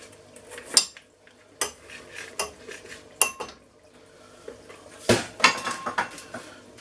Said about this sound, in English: what you're going to do first is sieve the flour